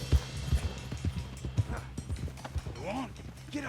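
Horse hooves clip-clopping at a steady trot in the Red Dead Redemption 2 video game, close and rhythmic, with a brief whinny near the end and a voice speaking.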